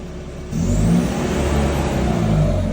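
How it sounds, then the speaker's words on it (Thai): Isuzu D-Max engine revving while parked, driven by a DinoBox Raptor2 electric throttle: a steady idle rises at once into a sustained, even rev that holds loud and close. "ลองแต่คันเร่งค้างไว้นิดนึง ค้างไว้ ค้างไว้ค้างไว้"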